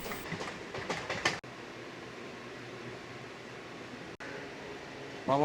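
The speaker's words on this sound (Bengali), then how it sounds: "শিয়ালদা উত্তরে সব ট্রেনই এই সার্কুলার ক্যানেলের ওপর দিয়েই যায়" Sealdah–Dankuni local train rolling over the rails across a canal crossing, a steady rumble with a loud whoosh near the start and a brief break partway through, and people talking faintly in the carriage.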